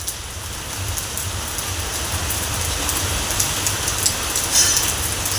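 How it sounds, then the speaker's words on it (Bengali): Continuous rain on a rainy day beside a house, a steady dense hiss that stays loud and even throughout with no voices. "বন্ধুরা দেখতেই পাচ্ছ বৃষ্টি পড়েই যাচ্ছে, অবিরাম বৃষ্টি, থামা নেই বৃষ্টির।"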